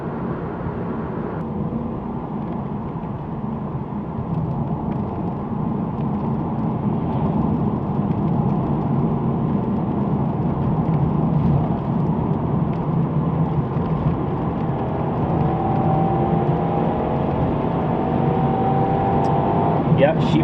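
A 2001 Toyota Celsior CF Spec sedan accelerates smoothly, its engine a low, steady hum that swells gently over about twenty seconds while someone talks over it from inside the cabin.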